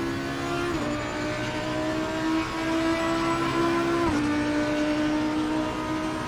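A steady, loud race car engine drone in the Assetto Corsa Competizione racing game, holding a sustained tone with a couple of brief pitch drops as gears shift, no talk.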